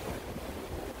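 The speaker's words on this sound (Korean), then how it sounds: "파도도 잔잔합니다" Calm sea with light wind at the Ayajin coast fishing spot: a soft, continuous wash of gentle waves and breeze, faint and steady, with no voices.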